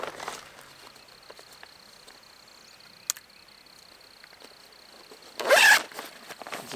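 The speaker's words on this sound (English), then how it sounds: "Zip that up." A single quick zipper pull on a seed bag near the end, loud and close, after a stretch of quiet background with a faint click in the middle.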